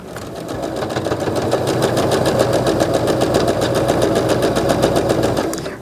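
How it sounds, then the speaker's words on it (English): A sewing machine stitches rows of a card trick quilt block, a fast steady needle clatter running continuously at close range for several seconds, without talk. "I'll whip this up on the sewing machine"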